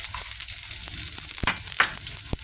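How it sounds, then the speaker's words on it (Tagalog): Steady loud sizzle of fried tofu hitting a pan of garlic sautéed golden brown, with a few sharper crackles and spatters over the continuous hiss, close up and without talk. "Ngayon, lagay natin yung pinirito natin yung tofu."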